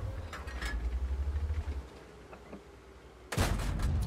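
A tank gun fires in the video game World of Tanks, a single sharp, loud blast near the end that follows a low mechanical rumble of engines.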